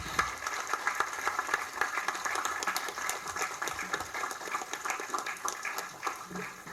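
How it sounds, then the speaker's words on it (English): An audience at a Bank of Ghana ceremony honoring the Asantehene gives a sustained round of applause, dense rapid clapping that carries on steadily and evenly throughout, with no voices. "please give them a resounding round of applause"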